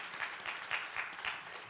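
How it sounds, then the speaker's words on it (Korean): A church congregation at a Sunday worship service claps together in a brief, steady round of applause that fills the room at moderate volume, with no voices heard over it. "박수 한번 치겠습니다."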